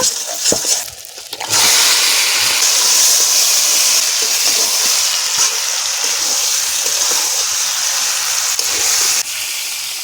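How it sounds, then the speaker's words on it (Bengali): Ground spices and fresh chili fry in mustard oil for a village-style mutton curry, a loud steady sizzling hiss that holds for several seconds after a short quieter start, with no talk. "সব মশলা ভালো করে কষিয়ে নেব।"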